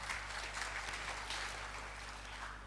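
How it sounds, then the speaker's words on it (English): An audience at a tech talk applauds to welcome a speaker, a soft, steady patter of many hands clapping at a distance over a low hum. "Big round of applause"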